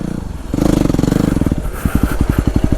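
A Yamaha WR250R dirt bike rides the trails at Carnegie SVRA, its engine loud and close: a revving climb that settles into a rapid, pulsing chug.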